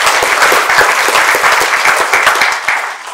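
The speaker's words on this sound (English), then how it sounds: "Give yourselves a big round of applause." Conference audience at an East Africa philanthropy gathering breaks into sustained applause, dense overlapping claps from a large crowd, steady and loud throughout before easing slightly at the end.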